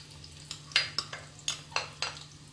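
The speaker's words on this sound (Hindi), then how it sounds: "फ्लेम को बढ़ा देंगे और हम प्याज को गोल्डन ब्राउन होने तक पकाएंगे।" Sliced onion fries in oil with whole spices, sizzling quietly under a series of sharp, evenly spaced spoon taps and scrapes against the pan, heard close with no talking.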